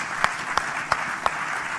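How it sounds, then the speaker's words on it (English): At a live conference, several sharp claps ring out at a steady rhythm over a murmuring room of applause, four distinct hand claps standing out clearly. "give them such a round of applause for being so good at dealing with this"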